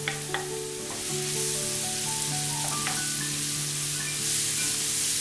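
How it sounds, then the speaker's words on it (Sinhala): Soya meat frying in a pan for a Sri Lankan soya meat curry, giving a steady, dense sizzle throughout with faint scrapes of stirring and no talk. "දැන් මේ සොයා මිට් එක විනාඩි 2ක් විතර මේ විදිහට පොඩ්ඩක් ෆ්‍රයි කරගන්න ඕනේ"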